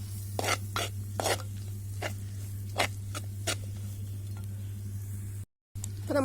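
Chili powder, fennel and turmeric sautéing in a pan for a masala roast, a steady low sizzle with repeated light scraping and tapping of a stirring spoon, close and without talk.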